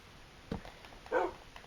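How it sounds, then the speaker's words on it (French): A dog in the Minecraft video game gives a short bark followed a moment later by a louder whimpering yip, both brief and fairly close, with no talk over them. "Viens. Viens. Viens le chien."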